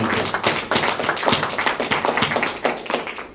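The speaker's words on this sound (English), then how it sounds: "I think that in itself deserves a round of applause" A small audience claps steadily for a few seconds, a close, even patter of hands without cheering.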